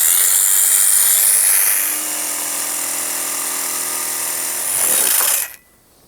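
A loud, steady whine of a power tool cutting out 3 1/4-inch circles, holding a sustained tone with a slight shift partway through before winding down and stopping abruptly.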